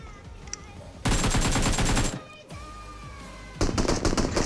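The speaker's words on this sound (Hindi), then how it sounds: "तो मैं इसको एक दो बुलेट मारता हूँ और मैं रश कर देता हूँ उस पर" Automatic gunfire from the PUBG Mobile video game comes in two dense, loud bursts of rapid shots, separated by quieter game ambience and a few faint tones.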